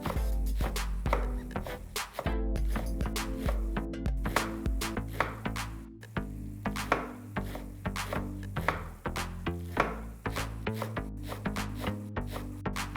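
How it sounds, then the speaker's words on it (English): A knife chopping fresh fenugreek leaves on a board, a steady run of crisp, rapid cuts with short pauses, close and clear with no talk. "let's roughly cut some fresh fenugreek leaves"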